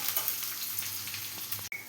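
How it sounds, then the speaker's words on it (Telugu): Four or five crushed garlic cloves fry in hot oil alongside mustard seeds and cumin while sambar is being prepared, giving a steady close sizzle with a faint stir and a brief break near the end; no one speaks. "ఒక నాలుగైదు వెల్లుల్లిపాయ రెబ్బలండి ఇవి మనం చక్కగా ఎర్రగా వేగనివ్వాలి"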